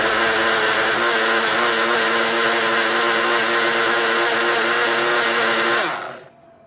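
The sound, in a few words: blender blending aloe vera and water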